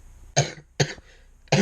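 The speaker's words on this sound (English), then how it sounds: "I don't know what this is, a cough." Three sharp coughs from one person, close and loud, spaced unevenly with quiet pauses between, with no talking around them.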